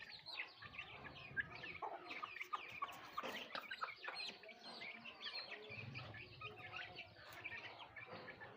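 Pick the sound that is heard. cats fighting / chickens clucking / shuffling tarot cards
chickens clucking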